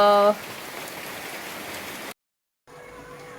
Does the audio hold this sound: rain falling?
yes